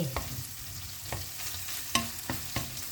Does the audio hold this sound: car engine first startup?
no